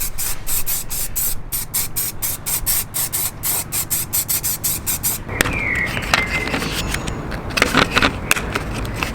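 A spray gun lays clear lacquer over refurbished alloy wheels on a Mk2 Ford Focus ST, coming in a fast run of short hissing bursts before a longer continuous spray with squeaky rubbing and faint crackle.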